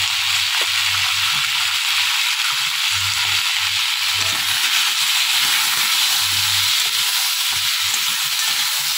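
Bheda or rayna fish frying in a pan with salt and turmeric, a loud, steady sizzle and hiss that keeps going throughout with no one talking.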